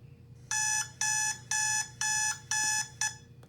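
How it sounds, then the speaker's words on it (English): An alarm clock blares in six regular electronic beeps, each about a third of a second long and evenly spaced, loud and clear over a faint low hum. "The blare of an alarm clock."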